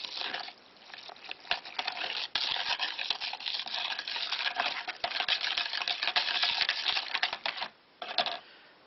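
Yogurt being stirred into water in a jug for homemade yoghurt, a steady run of clinking, tapping strokes against the container, close and busy for most of the time with a brief pause near the end.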